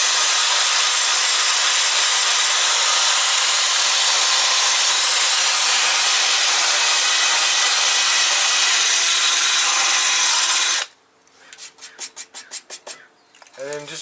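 Loud, steady abrasive grinding and sanding rust off the engine bay of a VW MK2, a harsh continuous rasp lasting about eleven seconds before cutting off to quieter clatter and a brief voice.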